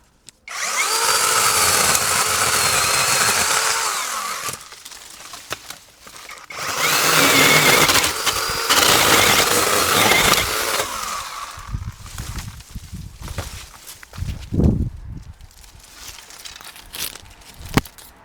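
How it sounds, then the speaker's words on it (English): An Avhrit cordless pole saw with an 8-inch blade cuts through thick branches, its motor whining loud and close in two long bursts, followed by quieter cracking, rustling and thuds of falling wood. "I'm going to get through to some really thick branches, and having this 8-inch blade on here is going to make light work of those branches"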